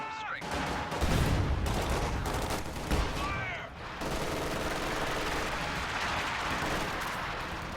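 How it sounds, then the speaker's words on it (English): Rapid bursts of gunfire and explosions fill a squad-based video game battle, loud and continuous with crackling shots overlapping for the whole stretch, with a game voice briefly heard. "Incoming fire!"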